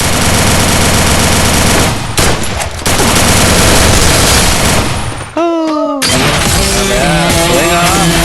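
Rapid automatic gunfire in the Free Fire battle royale game: loud, dense bursts of shots that stop briefly, then return alongside tonal in-game sounds.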